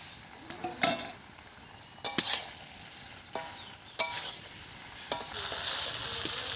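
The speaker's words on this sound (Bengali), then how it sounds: "আমরা কষছি, এঁচড়টাকে কষছি" Green jackfruit sautés in a pan under a quiet, steady sizzle, broken by five sharp scraping stirs of a spatula at irregular intervals, close and fairly loud, with no talking.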